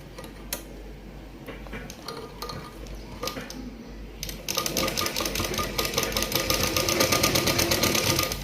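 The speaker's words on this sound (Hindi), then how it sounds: "अब हम यहाँ से सीधा स्टिच कर लेंगे।" Sewing machine stitching a straight seam on a salwar, starting midway with a fast, even needle rattle that builds slightly louder toward the end, preceded by quiet handling clicks and fabric movement.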